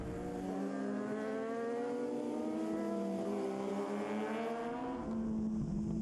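Road racing motorcycles scream past on a public-road circuit, their high engine whine rising and falling through gear changes as they pass one after another, loud and alone.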